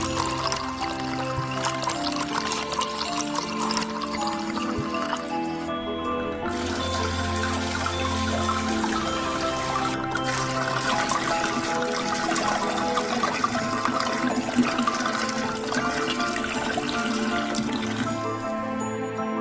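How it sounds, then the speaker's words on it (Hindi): Pomegranate juice pours from bottles into a large saucepan in a continuous liquid stream, steady and close throughout, with slight shifts in splash tone. "अनार के रस की 6 बोतलें खोलेंगे और डालेंगे।"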